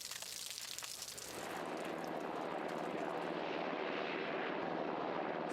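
A helicopter with two Apache gunship escorts comes in toward a small military base in Afghanistan, its rotor and engine roar swelling from a thinner background into a loud, steady, broadband drone.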